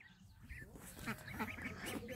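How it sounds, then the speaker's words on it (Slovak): Ducks quack repeatedly on a farm, a steady chorus of fairly close quacks over low background noise, with a person talking among them. "Tu máme zase kačky, celá farma"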